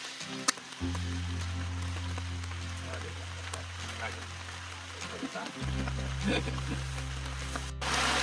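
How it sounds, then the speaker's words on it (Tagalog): Steady heavy rain drumming on a surface nearby, with a low constant rumble and scattered sharper drops throughout. "nabutan tayo ng malakas na ulan"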